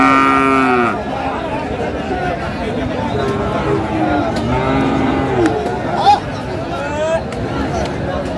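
Cattle lowing at a busy Manikganj livestock market where bulls are being bargained over; long, drawn-out moos repeat close by over constant crowd chatter and nearby voices.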